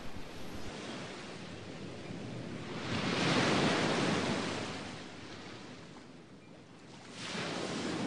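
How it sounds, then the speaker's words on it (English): Ocean waves wash up a sandy shore in a steady broad roar, swelling into a louder surge midway, easing off, then rising again at the end, with no voices. "as waves climb higher up the shore, laden with fresh secrets"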